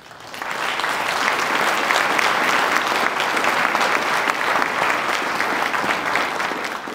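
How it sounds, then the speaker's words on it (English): An audience gives a round of applause at the close of an Indigenous food sovereignty panel, steady dense clapping from a crowd sustained for several seconds. "give a round of applause"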